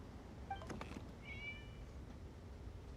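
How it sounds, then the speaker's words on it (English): A cat meows in the video game Genshin Impact, two or three short high mews close together over a quiet low ambient background, with no talking. "It was just a cat."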